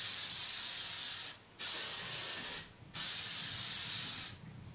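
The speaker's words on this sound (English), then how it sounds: "So I'm going to use my TONI&GUY Glamour," A can of TONI&GUY firm hold hairspray sprays in three long bursts, each a loud, close, breathy hiss lasting over a second, separated by brief near-silent pauses.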